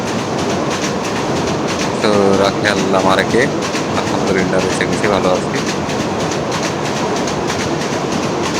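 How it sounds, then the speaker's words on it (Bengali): A train rolls past near a riverside in Bangladesh, a loud steady rumble and clatter of wheels on rails throughout, with someone speaking over it. "এই যে ট্রেনটা দেখছেন, কয়েক সেকেন্ডের ভিতরে চলে আসছে ট্রেন।"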